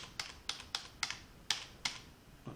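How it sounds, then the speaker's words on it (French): Keyboard keys, Shift and an arrow, pressed while working in image-editing software: about seven separate, sharp, fairly quiet clicks at an uneven pace, with no voice. "avec l'aide du clavier, Shift et flèche à droite"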